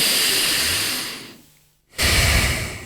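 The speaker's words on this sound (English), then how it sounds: "Here's what non-diaphragmatic breathing looks like." A shallow chest breath: a steady airy rush of breathing that fades out, a brief silence, then a sudden loud burst of breath, close and with no talking.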